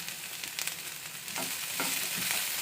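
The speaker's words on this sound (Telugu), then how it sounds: "బీన్స్ అన్నీ వేసి బాగా మగ్గనిద్దాము. ఈ విధంగా వేగేటప్పుడు కొంచెం మనము సరిపడా రాళ్ళ ఉప్పు కూడా వేస్తాం." Beans and capsicum fry in a pan with rock salt for kara bath upma, giving a steady close sizzle with a few louder spoon-stir scrapes and bursts partway through.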